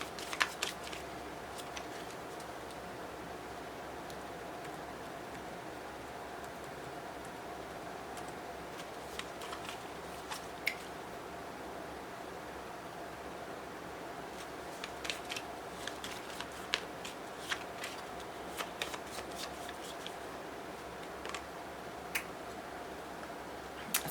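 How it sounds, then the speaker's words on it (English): Soft, irregular papery flicks and riffles of tarot cards being shuffled, close and quiet, with no talking. "I will shuffle again."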